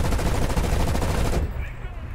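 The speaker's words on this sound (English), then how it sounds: "I like these cannons. These cannons are stupidly good." A Russian fighter's aircraft cannons fire in War Thunder's simulator mode: a loud, rapid burst of shots that runs for over a second and then cuts off abruptly.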